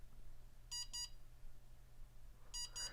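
Aomway Commander FPV goggles emit two short bursts of high electronic beeps, then after a pause a quicker series of three beeps, clear over a low steady hum.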